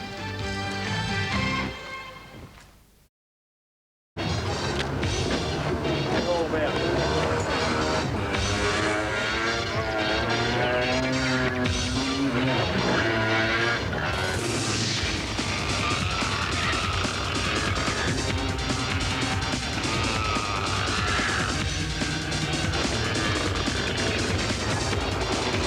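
Go-kart racing on an outdoor racetrack, engines buzzing loud and close with shifting pitch as karts pass, a brief silent gap near the start, then a continuous dense roar.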